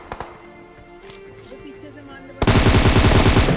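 Sustained automatic gunfire erupts as covering fire in PUBG, a loud rapid burst after a quieter stretch with faint game sounds and a couple of sharp early shots.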